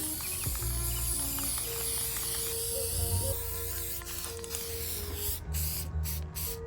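Plastic dip coating hisses from a spray can onto a car in steady bursts, with faint mechanical ticks behind and a few short breaks near the end, no talk.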